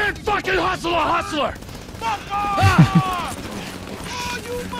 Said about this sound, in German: der hat geschossen und hat ihn nicht getroffen